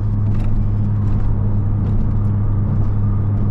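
A Pontiac G8 GT hums along on the road, its engine giving a steady low drone with tire and road rumble from inside the cabin, loud and constant throughout.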